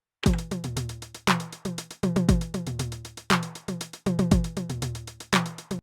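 A Roland TR-909 drum machine pattern of punchy, tuned high tom hits over a steady kick and hi-hat groove, looping in a tight, even rhythm at close range.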